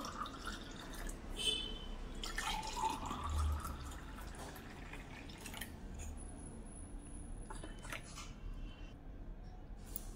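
Watermelon juice being poured into a glass, faint trickling and scattered drips of liquid in a quiet room.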